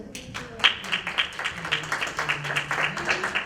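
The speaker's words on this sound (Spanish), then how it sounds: "Le damos un fuerte aplauso." A small panel audience gives fairly quiet, scattered clapping, individual claps audible in an uneven rhythm, with faint background murmur.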